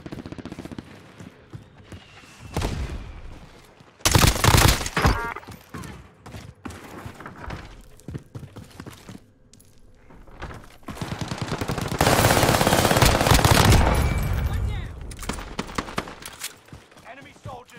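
Fortnite gunfire in a high-kill match on Fortune's Keep, loud bursts of rapid shots in two heavy stretches separated by quieter gaps, with players talking over the action.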